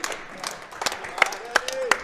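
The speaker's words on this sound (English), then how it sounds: "Clapping all around." Scattered applause from a small audience at the close of the Len Memorial Tournament 2023, sparse sharp claps under a voice speaking over them.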